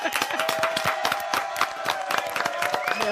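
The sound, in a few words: applause and clapping for Jamila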